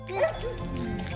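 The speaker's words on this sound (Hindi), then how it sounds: "देखिए यहाँ कुत्ता" A dog gives a short yelping bark followed by a whimpering whine, close and brief, outdoors with background noise.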